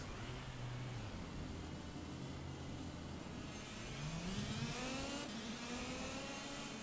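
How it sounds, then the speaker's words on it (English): A kart engine in Project Cars winds up at full throttle, a buzzing mid-pitched drone that holds steady and then climbs sharply in pitch as it revs and accelerates, fairly quiet and with no talking over it. "so let's just full throttle into the wall"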